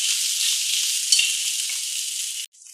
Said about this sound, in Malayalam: ബാക്കി വന്ന പുട്ടും അതിലേക്ക് ഇട്ടിട്ട് നല്ല പോലെ ഇളക്കി കൊടുക്കും